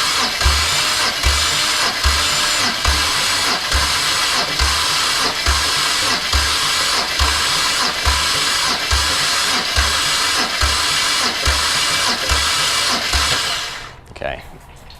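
A BMW N54 engine in a 335i cranks on the starter during a compression test with a battery low on charge, a loud, steady rhythmic churning that holds for about fourteen seconds before stopping abruptly.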